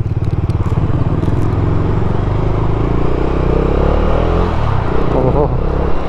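A Bajaj Dominar 250 motorcycle runs at close range while being ridden, its engine droning loudly and steadily as it pulls away and picks up speed, with a rider talking over the sound.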